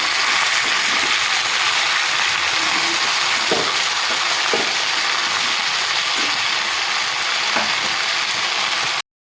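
Drumstick (sajna) pieces and vegetables frying in a pan give a steady hiss and sizzle throughout, broken by a few soft scraping clicks as they are stirred, with no one speaking.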